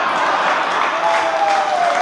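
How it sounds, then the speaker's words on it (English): Wedding reception guests clapping together, a dense, steady wash of applause from a nearby room full of people, sustained without breaks. "That whole table right there applauds you."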